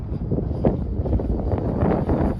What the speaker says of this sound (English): It is a little bit too windy for this bird